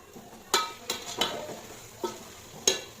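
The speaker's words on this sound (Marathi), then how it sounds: "आता कांदा लाल करून घेऊ आपण आता चिरलेली मिरची टाकून घेऊ पुदिना थोडासा" Chopped chillies and mint go into onions frying in a pan for Solapur-style dalcha rice, with a handful of sharp utensil scrapes and clinks against the pan over a soft, quiet sizzle.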